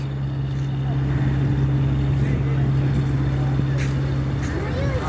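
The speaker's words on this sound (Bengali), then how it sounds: "আনামনি লঞ্চ আসছে, ওই যে লঞ্চ, ওই যে লঞ্চ" A passenger launch boat approaches on a river, its engine a steady, low, droning hum that holds constant and fairly loud throughout.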